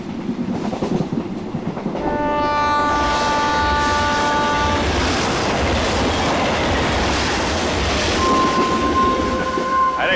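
A train travels along the railway with a continuous loud rumble and clickety-clack of wheels, while steady horn-like tones sound early on and again near the end.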